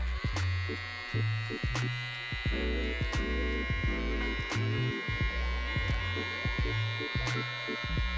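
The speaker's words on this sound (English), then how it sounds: "when you put the clipper in, you wanna make sure that you set it and then shift slightly up" Electric hair clippers buzz steadily at close range during a buzz cut, with the pitch wavering as the blades move through hair. Faint clicks sound over the continuous hum.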